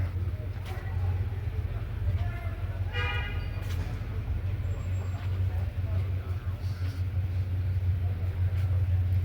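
A Shelby Mustang's engine rumbling at a car show in Abbeville, South Carolina, a steady low idle throb under crowd chatter with a couple of faint horn-like toots.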